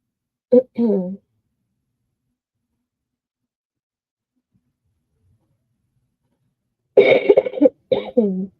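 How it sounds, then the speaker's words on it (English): A few harsh coughs come in two bursts, a pair early on and a longer cluster near the end, close to the mic, with silence in between. "This cough really needs to just go away."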